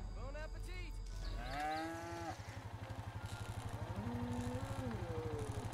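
A cow in the LEGO Jurassic World video game gives drawn-out moos over a steady rhythmic engine-like chugging, with a person talking over it.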